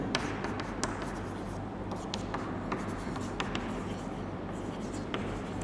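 Marker or chalk scratching across a board in a Class 11 maths lecture on sets, a steady run of short writing strokes close to the microphone with no talk over it.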